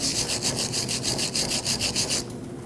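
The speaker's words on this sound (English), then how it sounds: "clean this area with a wire brush or even a file if it's severe enough" Rhythmic scrubbing of a wire brush against a rusty brake caliper bracket on a 2005-2021 Nissan Frontier rear brake, quick steady back-and-forth strokes close up, stopping near the end.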